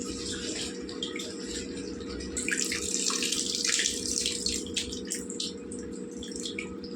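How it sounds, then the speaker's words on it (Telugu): Water from a tap runs steadily into tamarind pulp for Telugu-style biryani khatta. It is a continuous pouring and splashing sound, fairly close and moderately loud, and it swells briefly in the middle with no talking. "పిప్పి పులుసుకు తగ్గట్టు మనం నీళ్ళు వేసుకుందాం ఇందులోకి"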